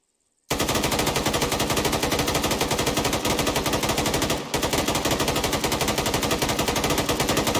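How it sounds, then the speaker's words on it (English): Sustained cyclic automatic gunfire in a suppressive fire demonstration, a loud rapid unbroken stream of shots after a silent start, with one brief stutter midway before the burst carries on. "So we're going to go ahead and demonstrate how to do cyclic now."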